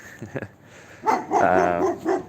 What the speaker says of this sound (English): Go look at the neighbor's dog.